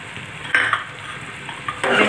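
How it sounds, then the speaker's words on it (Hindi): Crumbled paneer for a dhaba-style paneer bhurji is stirred in a sizzling pan, with short scraping bursts of a spatula over a constant frying hiss. "पनीर को अच्छी तरह से मिक्स कर लेंगे"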